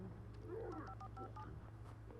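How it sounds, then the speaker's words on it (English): A faint telephone in the video game Alan Wake gives off a few short electronic tones over a steady low hum at a very quiet level. "Oh, phone."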